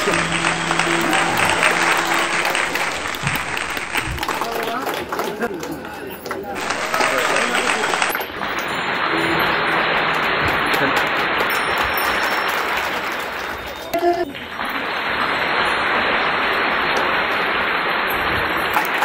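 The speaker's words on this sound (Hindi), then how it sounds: "हम जोर जोर से ताली बजाएंगे।" An audience claps loudly at the first Ronghuan festival of the Nocte and Tutsa communities, sustained applause in long waves that briefly dip and swell again, close and crowd-sized.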